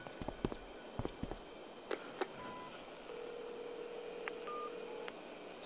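A phone-like tone plays in the video game Life Is Strange: a short beep, then a long steady tone lasting about two seconds and a few brief beeps, over quiet hiss with scattered taps and footsteps.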